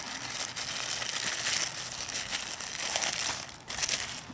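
Plastic wrapping being pulled and torn off an Andeman Epower-155Pro jump starter unit, a continuous close crinkling and crumpling with a short sharp tear near the end.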